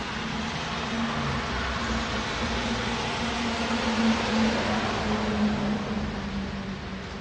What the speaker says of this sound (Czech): to je vlak nákladní